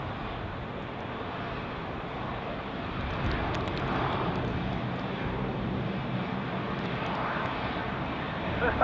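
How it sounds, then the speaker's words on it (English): A passenger airplane takes off at Zurich Airport, its engine roar swelling to a broad, steady rumble heard from a distance, with faint radio chatter in the background. "So it's doing takeoff"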